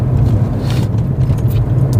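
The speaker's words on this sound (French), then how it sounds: "La voiture tourne bien." A BMW M57 inline-six diesel with about 250,000 km idles and runs in a car, a steady low droning hum held close and even throughout, with no voices.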